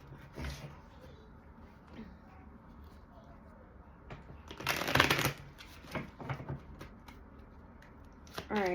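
A Kipper card deck is shuffled up close in brisk riffling bursts, loudest around the middle, with quiet stretches and faint room noise between them.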